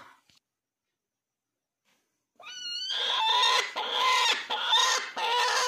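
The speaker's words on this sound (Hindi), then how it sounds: "अभी देख रहे हो किस तरह से कर कर की आवाज़ कर रही है" After a couple of seconds of silence, a broody hen gives a loud, continuous run of harsh, repeated clucking calls up close.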